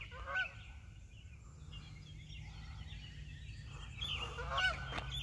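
Geese honk in a passing flock outdoors, flying toward a lake across a road; the calls are fairly faint and distant at first, growing a little louder and clearer near the end, with steady low background rumble.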